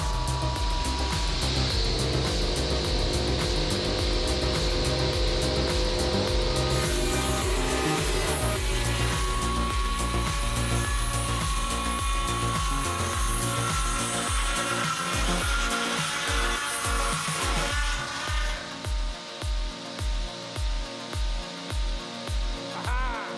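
A homemade circular saw sawmill with a swinging blade on a carriage suspended from a single overhead beam cuts through a log, giving a loud, steady whirring grind that ends in a series of rhythmic pulses as the cut finishes.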